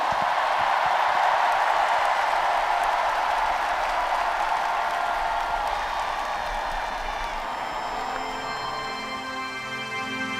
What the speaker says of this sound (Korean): IPYG 카드 섹션 팀에게 큰 박수 보내주시기 바랍니다